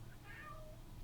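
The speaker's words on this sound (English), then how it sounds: "Cat's meowing." A cat meows softly a couple of times, a quiet, brief cry set against a low steady hum in an indoor room.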